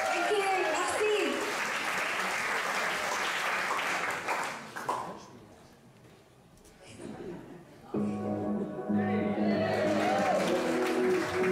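Applause from the audience at a stage show, a sustained wash of many hands clapping that fades to near quiet before music begins, with some voices mixed in.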